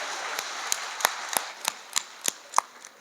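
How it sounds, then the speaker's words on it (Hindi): An audience at a Hindi comic poetry gathering at a Dhanteras fair claps in sharp, evenly spaced single claps, about nine in steady rhythm, crisp and fairly close with no talk. "अगर सही दिशा में जा रहा है ताली बजाइए।"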